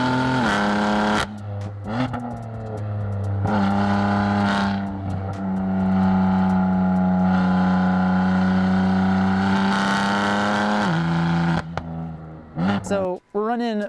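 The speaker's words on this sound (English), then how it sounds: "you hear the exhaust whenever you shift a gear because it's the dual clutch" Inside a tuned BMW F80 M3 with a dual-clutch gearbox, making about 600 horsepower, the engine drones and rises under acceleration, with a loud exhaust note at each gear shift and sharp pops near the end, heard close from the cabin.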